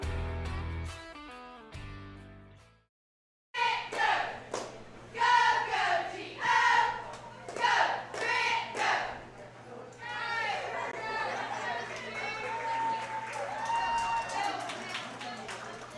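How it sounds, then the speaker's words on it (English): Grant High School cheerleaders cheer loudly in rhythmic bursts of shouted chants, with crowd chatter and some clapping, following a short stretch of music and a brief silence. "those were the Grant High School cheerleaders cheering us back in from that break"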